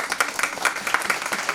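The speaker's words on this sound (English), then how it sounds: "Give them a real round of applause." Audience applause at a town board meeting, dense steady clapping throughout the short stretch, fairly close and moderately loud with no speech over it.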